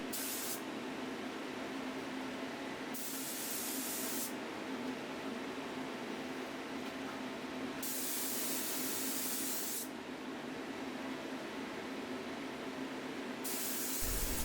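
A Fuji T75 spray gun fitted with a 1.0 needle and nozzle lays a final coat of polyacrylic on a mid-century table, giving a steady close hiss broken by several bursts of brighter spray as the trigger is pulled and released.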